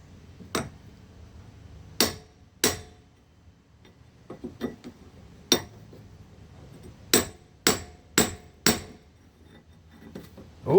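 Hammer striking a brick chisel, about a dozen sharp ringing metallic blows at irregular intervals, some in quick succession, with fainter taps between, close and clear with no talking.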